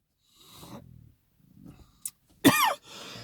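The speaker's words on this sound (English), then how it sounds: "This thing is making me cough." A single loud, harsh cough bursts out near the end, preceded by quieter breathy rustling, with no talking.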